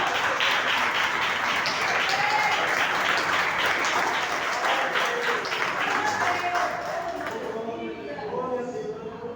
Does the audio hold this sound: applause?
yes